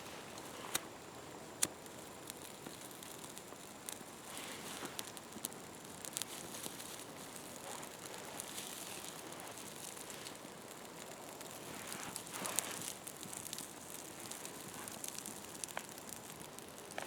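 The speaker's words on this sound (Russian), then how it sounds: "И вот сейчас развожу костер." A campfire lit in the taiga during river fishing crackles and ticks with scattered small pops over a soft, faint hiss, sounding steady and close throughout with no talk.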